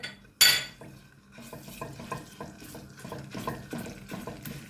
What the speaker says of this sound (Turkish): Gördüğünüz gibi sıvı yağımı döküyorum. Biraz yağ ısınsın. Şöyle biber salçamı koyuyorum.